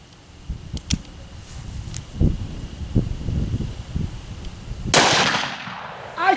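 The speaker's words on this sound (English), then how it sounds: "I shot the table again!" A handgun fires a single sharp, loud report into ballistic gel near the end, after several soft thumps and rustling handling sounds; the shot rings out with a brief decaying tail.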